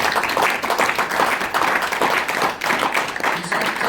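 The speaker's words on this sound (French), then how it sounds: "On peut applaudir très fort." Loud, sustained audience applause at a ceremony installing a Luxembourg sub-section, dense steady clapping from a large crowd filling the whole stretch without pause.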